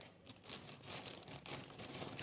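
Paper surprise packets for unboxing crinkle and rustle softly and close by in irregular bursts, with no talking.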